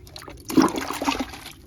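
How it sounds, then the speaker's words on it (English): Water poured generously from a container onto wet soil around freshly planted sorghum in a no-dig garden bed, a short splashing trickle that swells for about a second and then tapers off, close by with no voices. "give it a bit of water so the roots that got exposed can just be better in contact with this nice wet soil here"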